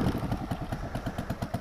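A 2003 Buell Blast motorcycle chugs on a test ride, its single-cylinder engine giving a rapid, even thumping pulse with clattery mechanical knocks, close and fairly loud, with no talk.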